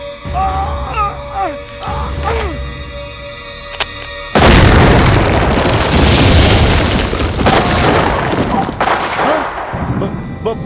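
A bomb explosion in a film scene: after a stretch of strained vocal sounds, a sudden loud, wide roaring blast erupts and rumbles on for several seconds.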